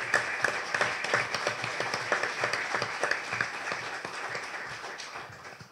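An audience at a summer university event in Soveria Mannelli applauds the mayor of Matera, giving sustained, fairly faint clapping from many hands in a hall, steady and then slowly tapering.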